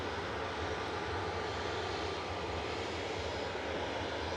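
A jet airliner, flight 929 bound for Reus, roars steadily at Manchester Airport as a loud, continuous engine rumble and broadband hiss with no pauses.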